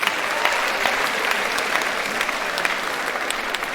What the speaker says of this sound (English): Clap for OAU